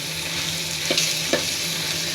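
Baim eel fish frying in hot oil in a pan, a continuous close sizzle with two brief clinks of a spatula stirring partway through.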